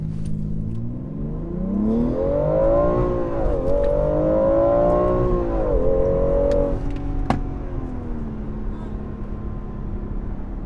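A 2020 BMW X3 M Competition launches hard from a standstill, its engine note climbing through rising gear sweeps with brief drops at each shift, loud and close from inside the cabin before settling to a steady drone.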